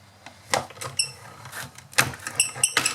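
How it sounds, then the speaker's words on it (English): A die-cutting machine used for paper crafting, in need of oil, gives several short, high-pitched squeaks between soft clunks and handling noises, close by. "Needs a little bit of oil by the sounds of that squeaking."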